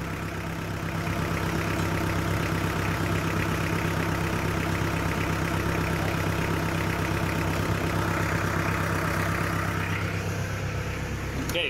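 A Mitsubishi 4D56 diesel engine, recently adjusted at the fuel injection pump, idles with a steady, even clatter, close and continuous throughout with no voices.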